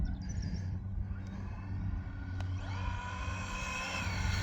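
A Mojave 6S RC car with a Castle Creations motor runs at full throttle, a steady droning motor whine with rising tonal sweeps, moderately close and continuous throughout.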